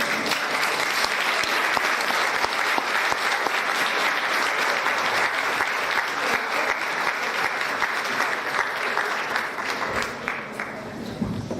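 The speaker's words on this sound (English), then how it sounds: "Sister Maureen also deserves a big round of applause." Loud, sustained applause from a seated audience at a session event, dense steady clapping that continues throughout with no voices on top.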